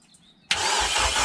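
Honda K20 engine in an EF hatch K-swap, with a bad starter: after a short quiet lead-in, a sudden loud burst of cranking and engine noise begins and holds steady, close and alone.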